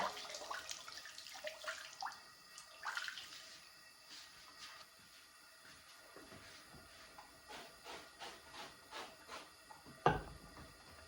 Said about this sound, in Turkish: Bu soğuk suda böyle yıkıyorum.